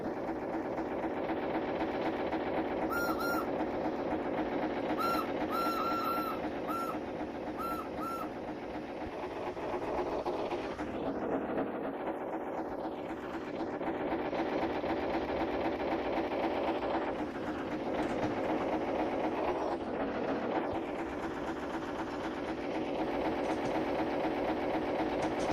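A steam locomotive in the Train Simulator Classic video game chuffs at speed, its rapid beats merging into a steady rhythmic churn that runs continuously, with brief bell-like tones early on and no talking.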